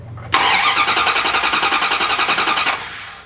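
A Harley motorcycle engine with a carburetor cranks briefly, then fires and runs in a fast, steady pulsing rhythm, close and loud, before cutting off.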